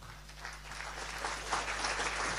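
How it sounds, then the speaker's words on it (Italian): Steady, full applause from an audience at a business event in Alessandria, greeting a guest as he is introduced. It is moderately distant and continuous through the short moment. "Ugo Giannini, a cui diamo un applauso subito"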